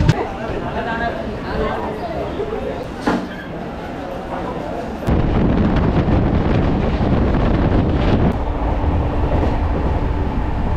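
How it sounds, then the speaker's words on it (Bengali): Steady rumble and rattle of the Shalimar–Puri express, heard from inside a second-class sitting coach, with a loud, continuous rolling roar that thickens partway through and wind buffeting the microphone. "এই ট্রেনটা প্রত্যেক দিন শালিমার থেকে পুরীতে যায়"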